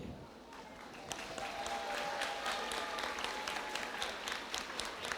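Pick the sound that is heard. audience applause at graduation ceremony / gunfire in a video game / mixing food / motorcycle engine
audience applause at graduation ceremony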